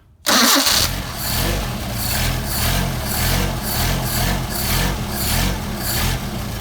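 An engine with a Solex carburetor, choked and primed, fires up abruptly with a loud start. It then settles into a close, rhythmic, slightly pulsing idle.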